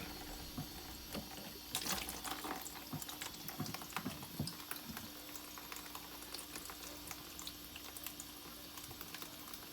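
Water drains from a bidet supply hose and its cutoff valve, a steady close hiss and trickle with small gurgles throughout.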